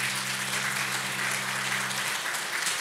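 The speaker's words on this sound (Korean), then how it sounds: "앞에 보고 인사하실 때 박수를 격려하시면 감사하겠습니다" A congregation applauds during a Korean Sunday church service: steady, even clapping from many people fills the room for about three seconds, with a low hum underneath and no talking.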